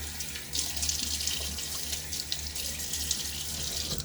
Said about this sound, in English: now let's throw some water on my face